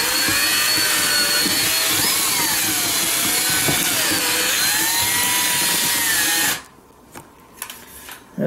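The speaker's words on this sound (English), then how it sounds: "I'm going to have to drill this hole a little bit bigger" A power drill bores out and enlarges a hole in a helmet for a GoPro mount, a loud steady whine rising and dipping in pitch as it bites, then cutting off abruptly near the end.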